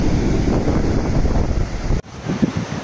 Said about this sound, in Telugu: గాలి మాత్రం సూపర్ వస్తుంది.